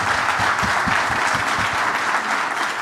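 An audience at a corporate fireside chat claps in steady, dense applause throughout, loud and sustained with no talk.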